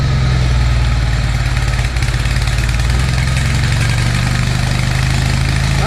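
A Toro tractor's engine runs at a steady idle with the grass deck drive out of gear, a loud, constant low drone close by with no talking.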